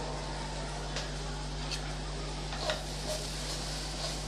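Vegetables being stirred in a pan for vermicelli biryani, with a faint steady sizzle and a few light spatula scrapes and taps under a constant low hum.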